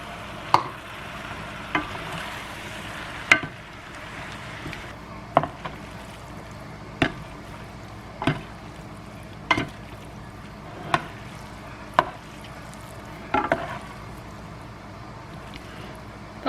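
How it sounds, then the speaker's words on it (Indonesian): Spaghetti with tuna and spices stirred in a pan: a utensil knocks against the pan in regular sharp taps about every one to two seconds over a soft, steady background hiss. "Pokoknya kita aduk sampai semuanya merata guys"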